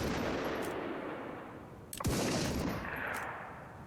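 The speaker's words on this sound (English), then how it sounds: "I managed to shoot him like 15 times, I reckon, before he went down" Gunfire rattles through the Alaska Gold Fever mining video game, a dense, loud stretch of shooting with a sharp crack standing out midway. It is heard alone, with no talking.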